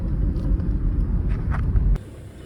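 Car engine straining under load, its exhaust clogged, a low heavy rumble with uneven surges close by that drops off suddenly near the end.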